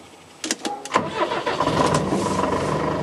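The 210-horsepower Iveco engine of an Oncilla 4x4 armored personnel carrier cranks with a few clattering bursts, catches and settles into a steady rumbling run, heard close and loud.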